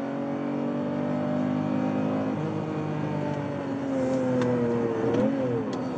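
A Lamborghini Diablo with a 5.7-litre V12 engine runs with a steady, droning engine note whose pitch rises and then falls as it revs, heard fairly close with no talk.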